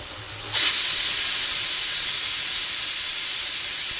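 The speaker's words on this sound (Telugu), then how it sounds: "ఇంకొక వన్ విజిల్ వస్తే కుక్కర్ బంద్ చేయడమే" A pressure cooker cooking moong dal and spinach releases steam. After a brief quiet start it erupts into a loud, continuous close-up hissing whistle that holds steady to the end.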